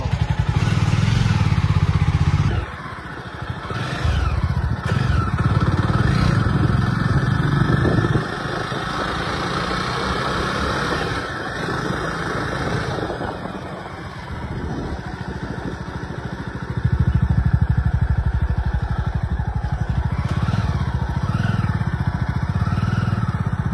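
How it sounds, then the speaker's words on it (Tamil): A Jawa 42 motorcycle engine runs close by in a steady, throbbing idle. It dips briefly early on, holds lower, then swells back louder near the end. "இந்த கிளட்சை பிடிச்சிட்டு இதை மட்டும் ஸ்டார்ட் மட்டும் அமுத்துங்க, எக்ஸலேட்டர் கொடுக்க கூடாது."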